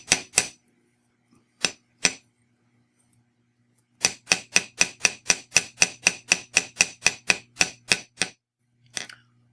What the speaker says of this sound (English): I'm not just hammering on this